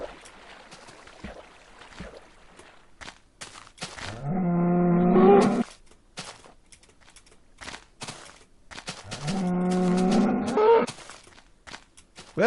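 Cows in the Minecraft Alpha video game give two long, low, close moos several seconds apart, with quiet game sounds and light clicks in between.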